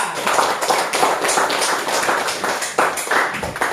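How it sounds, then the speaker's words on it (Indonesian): Group 2 receives applause in a classroom, a steady burst of many hands clapping close by that lasts for several seconds. "Ya, aplaus untuk kelompok 2."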